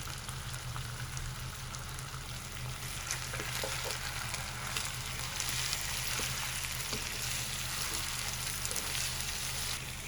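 Chicken pieces frying in a pan with salt and halved green chilies for a shahi white murgh, a steady close sizzle and crackle with occasional stirring, continuous and without talk.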